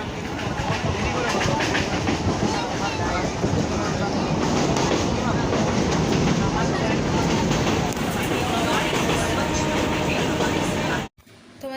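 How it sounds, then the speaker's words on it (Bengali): Inside a passenger train standing at a station before departure, with a steady loud hum of the carriage and platform and a dense background of crowd chatter throughout. "আমি ট্রেনে চেপে গেছি, কিন্তু ট্রেন এখনও ছাড়েনি।"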